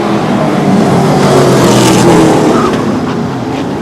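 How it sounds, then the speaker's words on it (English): A pack of short track race cars roars off at the green flag on a speedway, a dense, loud wall of engines surging and revving together without a break. "Here they come. 12 laps, green flag over the speedway."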